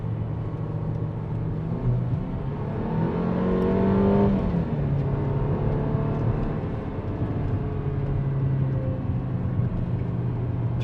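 A Mercedes-Benz CLA 250 4MATIC coupe engine in sport and manual mode pulls through corners, revving up, then dropping sharply before building again, heard as a steady muffled cabin drone.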